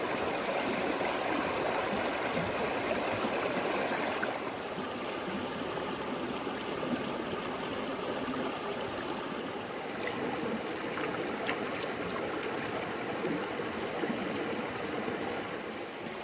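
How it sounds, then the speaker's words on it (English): Continuous rushing and splashing of shallow, freezing cold water around someone paddling in a stream near Ullswater, steady and close with no talking. "I'm paddling in freezing cold water on a boiling hot evening"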